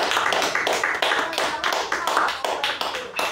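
A church congregation claps in a fast, continuous rhythm during a Sunday service, the dense, loud claps filling the room with a busy, steady beat.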